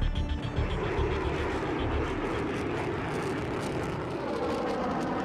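B-1 bomber in flight, a loud continuous engine roar that swells slightly at first and then holds steady and broad throughout.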